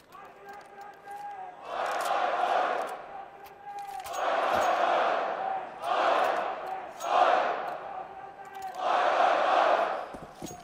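A live crowd at an IEM Sydney Counter-Strike quarterfinal, mousesports against Renegades on Train, roars in repeated swelling waves of cheering and chanting, loud and steady throughout.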